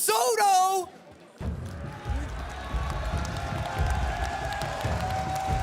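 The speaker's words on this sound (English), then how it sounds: "you hear the roar of the German crowd as it has been throughout this entire competition" A German arena crowd roars and cheers at the Clash Royale League 2022 World Finals, a sustained loud wall of voices and noise rising after a brief sung or shouted opening.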